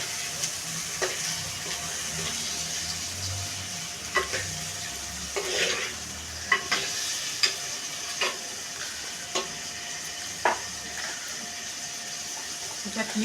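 Mutton cooks in a clay pot on a wood-fired stove, a continuous sizzle under repeated clinks and scrapes of stirring, with some faint voice in the background.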